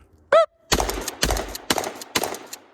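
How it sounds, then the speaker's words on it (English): Four rapid shotgun blasts fired at two steel targets on a range, sharp loud reports spaced roughly half a second apart, preceded by a brief high electronic beep of a shot timer. "So now we're shooting at the 2 steel there."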